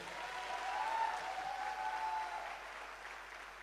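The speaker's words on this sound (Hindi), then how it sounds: "मैं चाहता हूं गुरुजी के लिए एक दमदार ताली" Sustained audience applause for a guru at a business event, a dense wash of clapping lasting several seconds that swells early and then tapers slightly toward the end.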